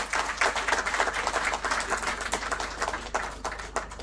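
An audience at a moot court prize distribution ceremony claps continuously, dense close applause with uneven hand claps sustained for several seconds, no speech over it.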